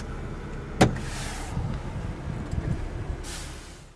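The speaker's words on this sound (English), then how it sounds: "your power rear sunshade" Power rear sunshade motor in a 2018 Lexus ES350 cabin, a faint whirring hum running under a quiet interior after a sharp click, fading out toward the end.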